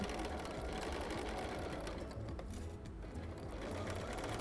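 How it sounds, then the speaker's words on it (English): A sewing machine stitches along the edge of a minky fabric soft book in a steady, fast, close-up mechanical patter. "I'm just going to sew all along this edge."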